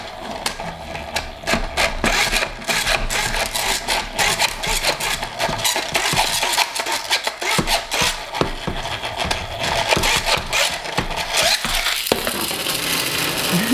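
A Power Ripper toy being revved and launched, heard as a loud, continuous rasping whir with dense rapid clicks that runs for over ten seconds, then shifts near the end as it is released.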